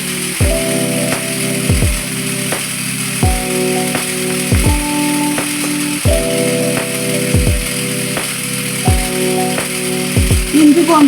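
Tomatoes sautéing in a pan for a chicken curry, a steady sizzle under repeated scraping and stirring strokes with a spatula, with music-like tonal sounds layered over it.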